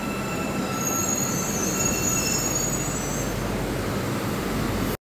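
A metro train at Istanbul airport rolls along with a loud, steady rumble and high wheel squeal that carries on unbroken to the end, with no voices.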